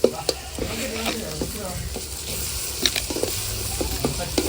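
Onion, garlic and curry leaves fry in hot oil as the base for a home-cooked fish curry, giving a steady, loud sizzle close up, with occasional stirring clinks and faint talk behind it.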